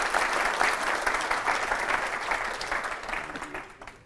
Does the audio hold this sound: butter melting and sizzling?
no